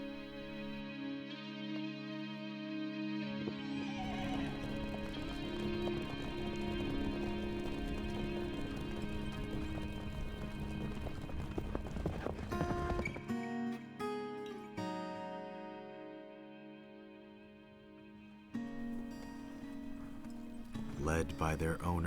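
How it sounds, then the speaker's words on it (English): Horses at a Tibetan plateau horse gathering being led to a riverside, hooves clip-clopping and occasional neighs mixed under a swelling music score, with a narrator's voice running over much of it. "Led by their owners to the riverside, horses are ordered to step into rivers."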